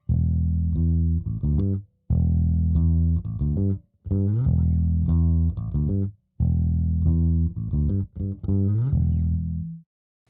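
A bass guitar with a 250 Hz EQ cut plays a repeating phrase in four even bursts with brief gaps, full and deep yet slightly hollow in the low-mid body.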